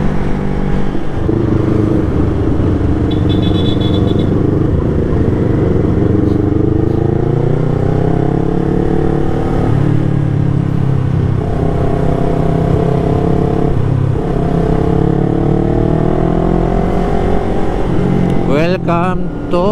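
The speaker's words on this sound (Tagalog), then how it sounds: "Grabe, lakas ang Aerox." A loaded Yamaha Aerox 155 scooter rides along, its engine loud and close with rising and falling revs as it accelerates through gear-like sweeps, under continuous wind and occasional talk.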